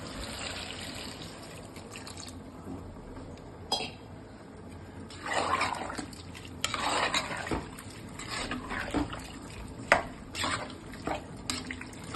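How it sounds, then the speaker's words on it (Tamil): Rice-washing water splashes and pours in irregular bursts into a metal pressure cooker, with light clinks of utensils between pours. "இந்த அரிசி கழுவுன தண்ணி இருக்குல்ல, கழனி தண்ணி, அதை வச்சு"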